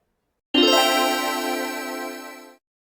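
A bright chime-like notification jingle rings out alone with dense harmonic tones, sustained for about two seconds before cutting off cleanly.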